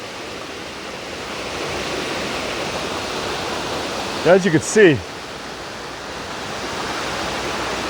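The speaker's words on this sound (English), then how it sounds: "the water just flows, and it looks like it comes down a nice slide" Water rushing down White Oak Falls in a steady, broad roar that stays constant throughout, with someone speaking briefly over it midway.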